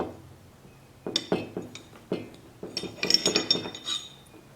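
Small metal parts of a SAR9 Platinum 9mm pistol, the recoil rod and spring, being handled: light clinks and taps in scattered bursts, close and fairly quiet, with no talking.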